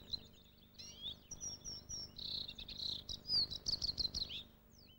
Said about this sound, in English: Bluethroats often sing only fragments of their song